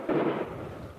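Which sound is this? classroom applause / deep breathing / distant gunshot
distant gunshot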